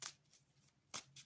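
Tarot cards being shuffled by hand, quiet and close, with two short riffling bursts at the start and again near the end, and softer card brushing in between.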